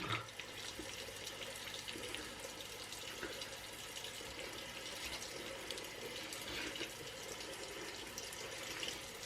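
Steady hiss and splash of a tap left running into a sink while someone washes their face, continuous and moderately quiet with a few small splashes, with no talk.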